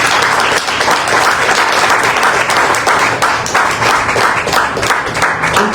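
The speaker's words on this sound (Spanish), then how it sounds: "¿Le damos un aplauso al Señor?" Church congregation applauding together during a Spanish-language sermon, a dense, steady wash of many hands clapping close and loud for nearly six seconds with no talk over it.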